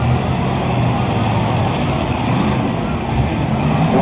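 Demolition derby car engine revving hard while backing up in deep mud, a loud, steady low rumble filling the whole stretch without letting up.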